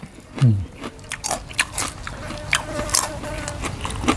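Crispy deep-fried fish, called pla wong thot, is bitten and chewed in a meal with sticky rice, giving crunchy bites and crackles close to the mic while someone talks between mouthfuls.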